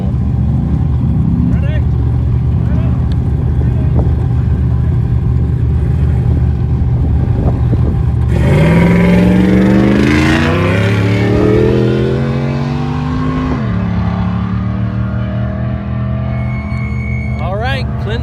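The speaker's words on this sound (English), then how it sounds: "All right, Clint Peterson off the line in the 4499 car." The engine of the 4499 off-road race truck roars during qualifying at the 2022 TDK Big Sky 200 in Broadview, Montana. It idles loudly, then revs hard in rising, surging sweeps as the truck launches off the line.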